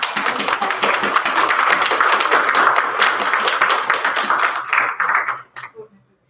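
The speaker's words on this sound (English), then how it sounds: "all of these people deserve a big round of applause" A room full of people at a librarians' business meeting applauds loudly with dense, steady clapping that thins out and stops after about five seconds.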